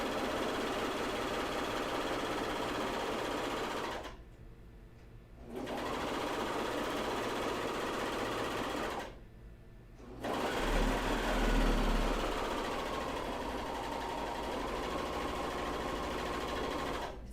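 A serger sewing machine buzzes in fast, steady bursts as it stitches and trims elastic for underwear, running in three long stretches separated by two short pauses, close and clear with no talk over it.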